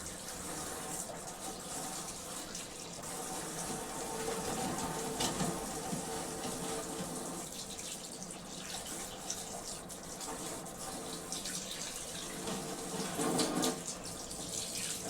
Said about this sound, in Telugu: తర్వాత పసుపు వేసి కడుక్కుందాం.